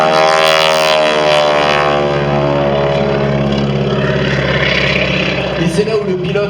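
Aerobatic propeller airplane performing at a world aerobatics championship air show in Châteauroux, its engine a loud sustained drone with shifting pitch throughout, with an announcer talking over it.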